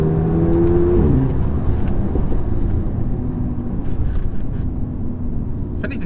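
A 2008 Audi TTS with its turbocharged engine accelerates hard from inside the cabin, a loud steady engine drone rising in pitch, dropping briefly at a gear change around one second, then pulling on under continuous road and wind noise.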